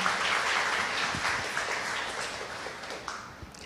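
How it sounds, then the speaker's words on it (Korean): Audience applause at a university library science-fiction lecture event after a speaker introduction, a steady wash of clapping that gradually fades over a few seconds. "큰 박수 부탁드립니다"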